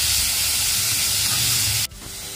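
Loud, steady hiss of carrots and onions frying in hot oil in a pan, continuous for about two seconds before cutting off abruptly.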